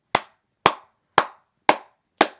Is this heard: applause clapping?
yes